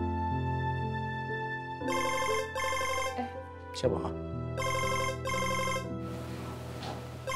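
A telephone rings in a home at night with repeated bursts of bright electronic ringing, several spaced rings, while someone briefly speaks over it.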